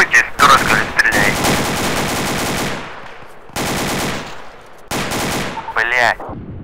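Automatic gunfire in the military video game Arma 2, loud rapid bursts filling most of the clip with brief pauses between volleys and a voice breaking in near the end.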